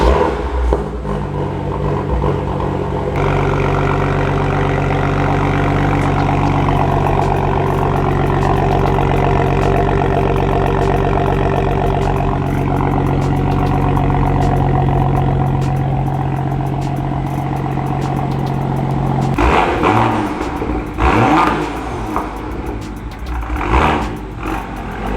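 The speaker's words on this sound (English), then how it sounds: "we're gonna do a cold start because I'm gonna pull this out so my brother can pull in. Listen to this sound." A BMW X3M with the S58 engine cold-starts with a loud rumbling roar that settles into a steady high idle, then a few revs and shuffling noises near the end.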